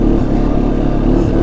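A 2016 Arctic Cat XC 450 4x4 ATV's single-cylinder engine runs at a steady, loud, close drone with a low throbbing pulse and no talk.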